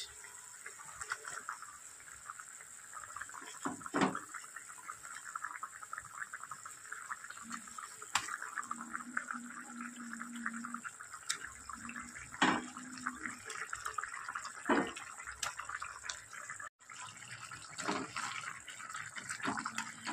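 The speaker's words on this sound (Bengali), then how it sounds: "ঝোল ফুটে গিয়েছে" Silver carp fish curry gravy, a Bengali tel jhal, boils in a pan with a faint continuous bubbling and simmering and a few soft clinks, quiet and steady throughout.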